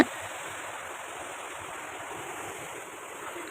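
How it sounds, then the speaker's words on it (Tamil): Water released from a dam gate rushing downstream, a continuous even roar of flowing water with no talk over it. "இப்போ கொஞ்சமாக தான் தண்ணி திறந்து விட்டுருக்காங்க"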